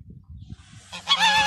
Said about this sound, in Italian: Altre papere.